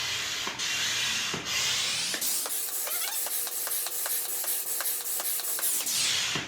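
Hand pump inflating the floor of an inflatable kayak, with loud airy rasping strokes. A short whooshing stroke or two comes first, then a long steady stroke with a rhythmic ticking running under it, close and alone.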